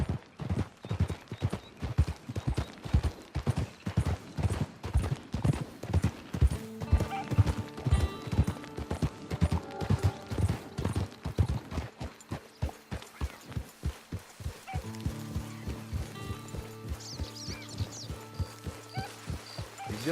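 Horse hooves clip-clop steadily in the Red Dead Online video game, a close, even rhythmic gait that continues throughout with occasional whinny-like tonal sounds.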